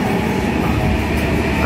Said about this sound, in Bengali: এই আমাদের ট্রেন এসে পড়েছে, ট্রেন ইতালো।